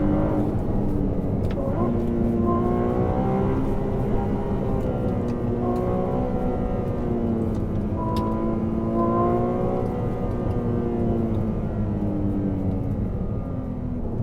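A Ferrari 296 GTB's hybrid twin-turbo V6 revs loudly and steadily from inside the car, its harmonics sweeping up and down through repeated gear pulls, a dense continuous engine roar with no talk.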